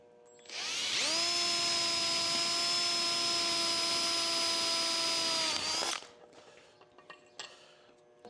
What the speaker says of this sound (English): Quarter-inch drill bit.